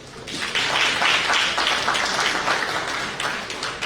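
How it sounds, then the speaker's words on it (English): Banquet audience at a cricket council anniversary dinner gives a round of applause: a brief, fairly close burst of many hands clapping that swells and then thins out, with no talk over it. "I think we should give him a round of applause."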